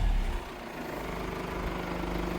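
A Mercedes W211 engine runs with a steady mid-range drone that holds fairly level, rising slightly toward the end with no clear sharp rev spike, and no one speaks over it.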